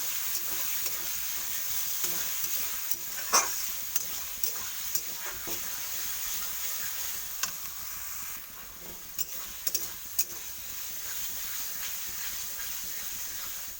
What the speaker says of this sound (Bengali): আমি পটলটা আর আলুটা তুলে দিলাম এটাকে ভালোভাবে কষতে থাকবে